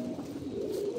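Racing pigeon gives a brief soft coo, a single short call at close range.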